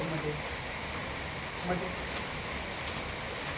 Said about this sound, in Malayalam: തേജുവോ മഴ പെയ്തില്ലേ